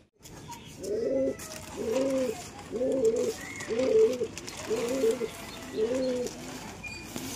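Pigeons in a rooftop loft of coops coo close by, six soft, throaty, rolling coos repeating at a steady, even pace with faint background noise.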